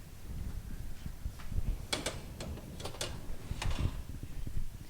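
Metal oven rack clatter as kebabs go onto the middle rack of a heated oven, a few sharp clinks and scrapes, close and fairly faint against a low background hum.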